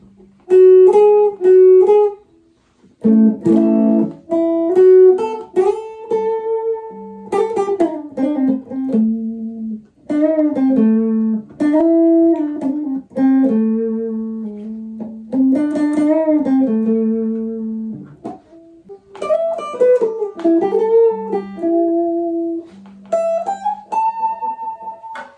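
Melodic single-note lines and short phrases come from a Bacchus Universe series Stratocaster-style electric guitar switched to the middle pickup, heard close and clean with brief pauses between runs and no voices.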